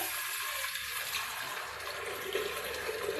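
Water poured steadily over soaked lentils for cooking dal, a continuous close rushing splash with no break and no speech.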